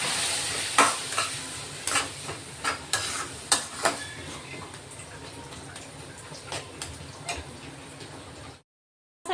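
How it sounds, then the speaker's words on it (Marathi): Spiced masala with a few spoonfuls of water, for a sprouted moth bean curry, sautéing in a pan: a soft continuous sizzle broken by scattered clicks and scrapes of the spoon stirring, close by, ending in silence. "ते आता परतून घेतो मसाल्यात।"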